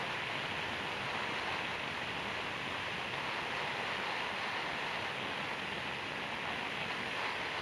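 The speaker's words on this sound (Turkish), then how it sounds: "İnanılmaz bir rüzgar var." Strong wind roars past a motorcycle riding onto the highway near the Gölbaşı–Konya junction, a loud, steady rush of broadband noise with no speech.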